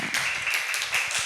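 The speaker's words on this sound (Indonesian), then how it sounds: "Tepuk tangan dulu untuk dia." Children in a classroom clapping, a brief patter of overlapping claps close by, lasting only about a second.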